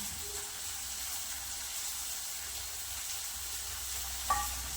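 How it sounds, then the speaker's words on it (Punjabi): Coriander frying in a hot tadka on a gas stove, giving a faint, even hiss of oil that holds steady throughout, with one small tap near the end. "ਧਨੀਆ ਪਾ ਦਿੰਦੇ ਇਹਦੇ ਵਿੱਚ ਥੋੜਾ ਜਿਹਾ ਸੇਕ ਲੱਗ ਜੂਗਾ ਧਨੀਏ ਨੂੰ"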